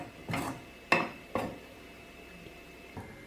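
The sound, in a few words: stirring chicken upma in a pan to break up lumps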